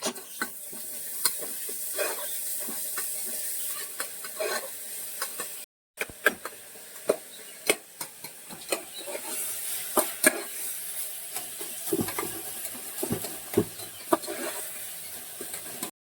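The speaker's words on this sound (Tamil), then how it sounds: "பட்டை லவங்கம் எல்லாம் போட்டுட்டு அதுக்கப்புறம் வெங்காயம் பிளஸ் ஜிஞ்சர் கார்லிக் பேஸ்ட் எல்லாம் போட்டு இப்ப நம்ம வந்து வதக்கிக்கிட்டே இருக்கோம்." Onion with ginger garlic paste, cinnamon and cloves sautéing in a pan, a steady sizzle with repeated close scrapes and clinks of a stirring spoon throughout, with no talking.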